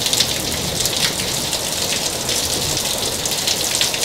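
Steady rain pours down over a neighborhood in Vila Regina, Itaquera, São Paulo, a dense, even hiss of drops on surfaces that continues without pause, close and fairly loud, with no voices.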